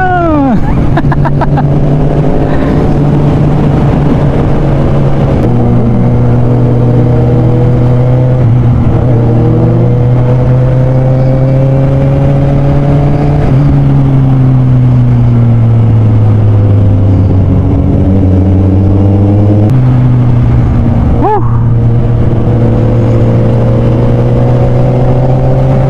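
A Kawasaki Z1000 motorcycle engine revs repeatedly, pitch climbing and dropping through several loud throttle pulls, close by with a steady rumbling drone underneath.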